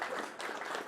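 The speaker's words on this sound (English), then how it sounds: "A round of applause for the cake makers." Audience at an Edinburgh Society of Musicians concert gives a short round of applause for the cake makers, a dense, steady patter of many hands clapping at moderate distance with no voices on top.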